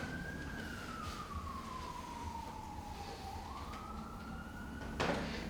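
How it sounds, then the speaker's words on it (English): A distant siren wails faintly, its pitch slowly falling and rising once, over steady background noise, with a brief thump near the end. "Siren in the background."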